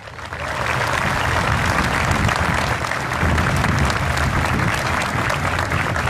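Outdoor crowd applauds at a patriotic May 25 ceremony and parade as a singer-songwriter is welcomed, rising quickly into a full, sustained burst of clapping that stays loud and even.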